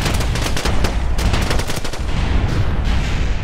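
Rapid, dense gunfire rattles continuously in Kerbal Space Program, with loud clustered bursts of shots filling the whole stretch and no talk over it.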